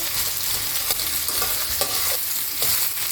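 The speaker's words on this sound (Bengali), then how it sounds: "পেঁয়াজটা খুব ভালো করে ভাজবো," Onions fry in a pan for a chicken curry with a steady, dense sizzle. A few light scrapes of stirring come through, and no one speaks.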